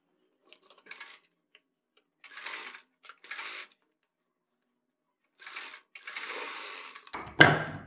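A sewing machine stitches kurti sleeve pieces together in several short rapid bursts separated by silence, the needle chatter close and clear, ending with a louder clunk.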